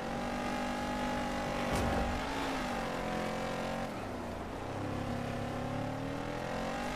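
The W5 Titan racing through Dirt 5, its engine holding a steady loud drone with shifting revs that dip and climb as the car drives, alone without talk.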